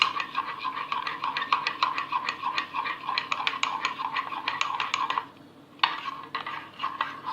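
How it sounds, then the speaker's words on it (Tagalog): A spoon stirs cake batter in a mug, a close, rapid run of rhythmic clinks and scrapes against the sides that pauses briefly before resuming. "Stir lang na mabuti para ma-mix siya ng maayos."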